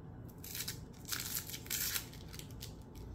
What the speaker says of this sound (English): So we're going to cut the onions in half and top and tail them.